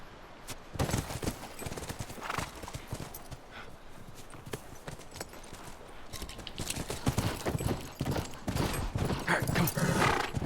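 Horse hooves clip-clop across ground in a video game, with an occasional whinny, steady and fairly close throughout under constant game background noise.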